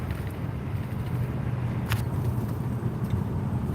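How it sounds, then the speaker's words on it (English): Car driving along, a steady low road rumble and engine drone inside the cabin with faint wind noise and a couple of small clicks, no voices. "I'm driving around."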